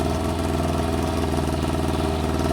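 A Yamaha Fazer 600 motorcycle engine with carburettor fuel starvation runs steadily close by, a throbbing, even idle with a rough mechanical rhythm and no talking.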